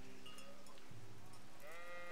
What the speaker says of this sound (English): I want a sheep. Come here, sheep.